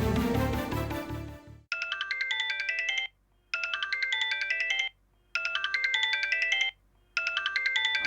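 A telephone ringtone plays a bright melodic phrase in repeated bursts separated by short silences, following a brief loud burst of other sound at the start.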